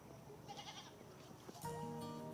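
Goats bleat on a farm, several faint calls scattered across the moment with a sharper, louder bleat near the end, and a little background noise.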